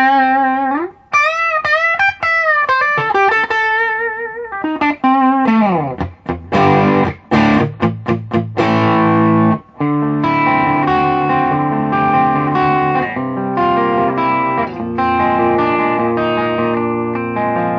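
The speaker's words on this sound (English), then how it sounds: "you can get it up into these distortion levels" Kustom Defender guitar amplifier with preamp boost pushed into distortion, sustained overdriven guitar chords and riffs ringing loud and continuous with brief pauses between phrases.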